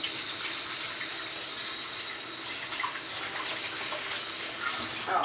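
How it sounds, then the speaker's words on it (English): Tap water runs steadily from a faucet while hands are washed, a soft continuous hiss and splash heard alone and fairly close, with slight changes as the hands move under the stream. "1 minute to wash my hands."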